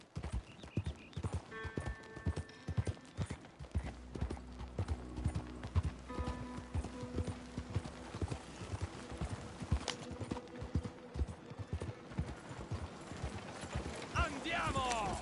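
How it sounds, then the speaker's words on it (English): Horse hooves clip-clop in a steady rhythmic gait in Red Dead Redemption 2, close and clear throughout, with someone speaking over them and game music tones in the background. "That's a hell of a horse you got there."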